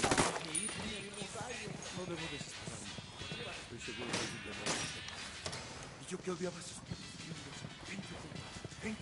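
Bursts of gunfire from a PS4 shooter game rattle in quick clusters, fairly quiet and mixed with game sound and a voice speaking over it.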